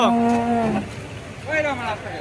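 Two drawn-out cow moos at a cattle market in Bangladesh, the first long and sliding downward, the second shorter after a brief pause, loud and close by.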